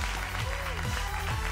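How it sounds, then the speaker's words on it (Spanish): An audience claps for a performer on a televised singing show, a dense burst of applause heard beneath a voice for a moment. "Fuerte el aplauso para él."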